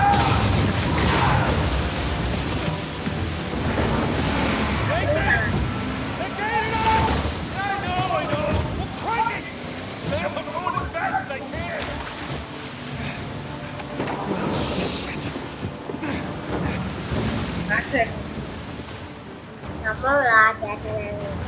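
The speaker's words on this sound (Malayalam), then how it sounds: "ഞാനാണ് ബോട്ട് ഓട്ടിക്കുന്നത്." Motorboat engine and splashing sea water from the video game Uncharted 4, a steady rush of waves and wind throughout, with someone talking over it for most of the clip.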